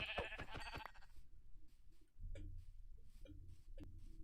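A sheep in the Minecraft video game bleats a few short, quiet times amid game ambience, with no talking.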